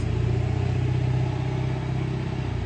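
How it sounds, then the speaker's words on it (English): A loud truck passes outside, a heavy, steady low engine rumble that holds close and strong throughout with only a slight easing toward the end, with no voices. "Sorry about that loud truck."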